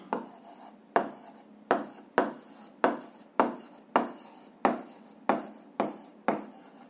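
Handwriting during an eighth-grade physics lesson, close and fairly loud, with about ten quick scratchy pen strokes in a steady rhythm, each starting sharply and fading, with no one speaking.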